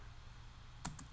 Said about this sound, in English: let's go ahead and type Docker.